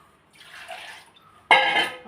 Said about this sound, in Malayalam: ഇതിൽ ഇച്ചിരൂടെ വെള്ളം ഒഴിക്കുക